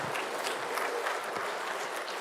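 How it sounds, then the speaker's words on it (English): Audience clapping at an atheism lecture, a full, even burst of applause from a seated crowd that stays steady and fairly loud throughout, with no speech over it. "You can clap now."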